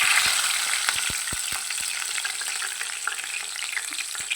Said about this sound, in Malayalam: കടുക് പൊട്ടി ഇനി നമുക്ക് കുറച്ച് വെളുത്തുള്ളി ഇട്ട് കൊടുക്കാം